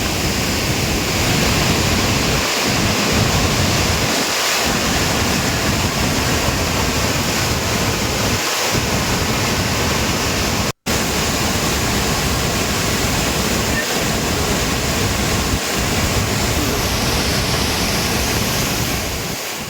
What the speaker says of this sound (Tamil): தொடர் கனமழை காரணமாக மணிமுத்தாறு அருவியில் கடும் வெள்ளப்பெருக்கு ஏற்பட்டுள்ளது.